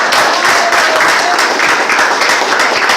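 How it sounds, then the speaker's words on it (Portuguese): A standing church congregation applauds during a Portuguese-language sermon, loud continuous clapping with a few whistles and crowd voices mixed in, steady for the whole stretch. "Vamos aplaudir o Senhor."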